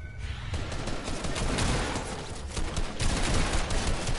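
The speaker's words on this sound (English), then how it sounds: "Is that you shooting?" Heavy Fortnite gunfire fills the whole stretch, a dense, continuous barrage of overlapping rapid shots, loud and close, with no voices over it.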